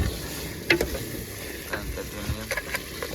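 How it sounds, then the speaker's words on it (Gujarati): Khanga fish pieces are stirred and fried in hot oil, giving a steady sizzle broken by scraping clinks from the stirring utensil, close and fairly loud, with no voices. "આ બધું છે મસ્ત મિક્સ કરીને ફ્રાય કરવાની"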